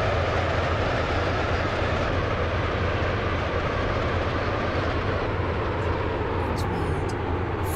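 A Class 68 train rides the rails in the Stepford County Railway video game, giving a loud, constant rumbling roll with faint rhythmic rail clatter throughout and an automated announcement voice over it.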